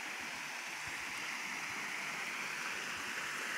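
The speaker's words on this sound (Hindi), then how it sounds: "मिनी स्ट्रीम भी काफ़ी अच्छी चल रही है, आप देख सकते हैं कि पानी जैसे ऊपर से फ्लो करता है" Water trickles and burbles continuously in a small mini stream inside a pet turtle tank, a soft steady flowing sound with faint gurgles.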